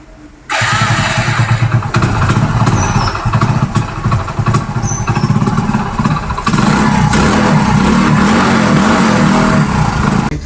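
A motorcycle running on a lithium battery cranks and fires up, then holds a loud, close, steady engine note for about ten seconds, with a swell in the revs partway through and no talking over it.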